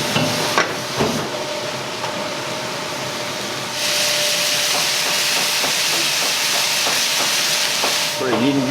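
Seasoned rice stir-fried with carrot and shiitake at a decades-old roadside diner for long-haul truck drivers, giving a steady sizzling hiss with scraping stirs that grows louder partway through.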